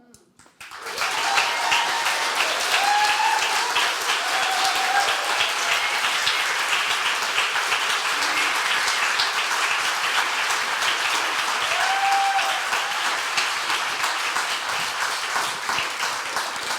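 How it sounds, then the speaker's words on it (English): Sustained audience applause for speakers at a storytelling and spark talks opening event, a dense steady wash of many hands clapping that starts abruptly and continues at full strength throughout, with faint whoops above it. "Please join me in giving a round of applause, another round of applause for amazing speakers"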